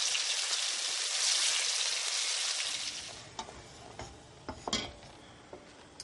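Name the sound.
pork medallions frying in a pan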